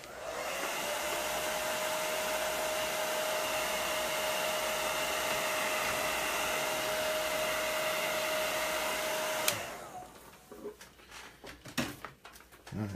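A hair dryer blows steadily over a wet acrylic paint wash for about nine seconds with a constant whine, then cuts off, leaving quiet handling noises.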